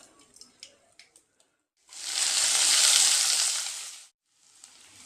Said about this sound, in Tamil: இப்போ கடுகு, உளுத்தம் பருப்பு போட்டு தாளிச்சிக்கலாம்